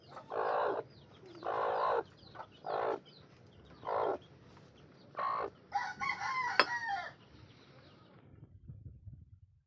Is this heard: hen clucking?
yes